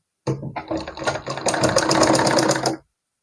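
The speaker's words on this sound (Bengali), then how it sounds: "প্রথমে আমি সেলাই করে নিচ্ছি।" A sewing machine stitches piping onto a neckline, starting with a few short bursts and then running into a fast continuous whirring hum before stopping abruptly, close and loud.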